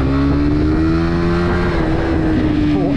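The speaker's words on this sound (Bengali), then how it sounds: "ভয়ঙ্কর একটা বাইক মানে প্রচুর টান উঠে GSX মানে টানওয়ালা বাইক" A Suzuki GSX motorcycle engine revs hard and pulls away, a loud, steady tone that climbs slightly in pitch and holds close for the full span.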